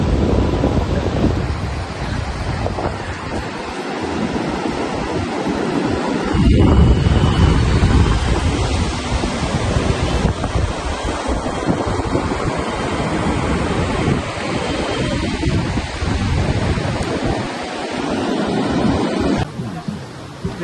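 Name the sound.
sea waves washing onto the beach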